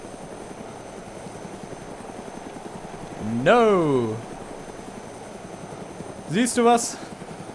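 A helicopter in the video game DayZ, on the Lingor Island map, gives off a steady rhythmic rotor chop. The chop runs beneath two short bursts of talk.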